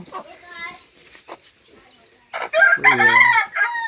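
A hen with chicks and other chickens cluck and crow in short bursts on a Konkan village farm, nearby, with a louder stretch of calls in the second half.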